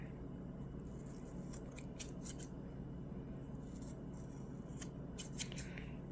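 Scissors snip a paper napkin wrapped on a candle, a few faint, crisp cuts in small clusters over steady low room noise.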